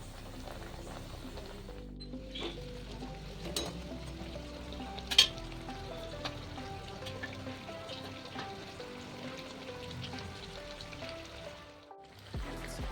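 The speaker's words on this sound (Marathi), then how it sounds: "या पद्धतीने आपल्याला मंदाचेवर कचोऱ्या तळून घ्यायच्या आहे मंदाचेवर मस्त खरपूस अशा तळून घ्यायच्या आहेत" Kachoris stuffed with fresh pigeon peas deep-fry in oil over a low flame, making a steady, close bubbling sizzle with a sharp tap or two from a utensil, and no talk.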